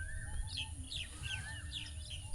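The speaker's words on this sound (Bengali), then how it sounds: "পাখির আওয়াজ," Several birds chirp and tweet in short, bright calls over a steady low background rumble, scattered throughout at moderate distance, in a village in Jamalpur, Bangladesh.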